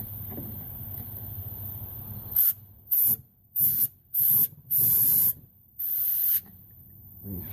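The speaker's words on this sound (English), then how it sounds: "I got a can of spray, air spray." Canned air sprayed into the burner vents of a propane smoker in five short hissing bursts, each a second or less, with brief pauses between them, loud and close after a quiet stretch of background noise.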